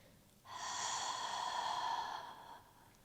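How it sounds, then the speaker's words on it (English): A long, steady exhale pushed out through an open mouth during a yoga breathing exercise, a breathy, even rush lasting about two seconds, close and fairly soft, with no talking over it. "And then again, open the mouth, exhale to release it."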